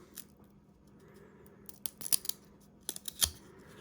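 Foil packs of 1996 Pinnacle baseball cards are torn open, with a few quick, sharp ripping and crinkling bursts heard up close against a quiet background.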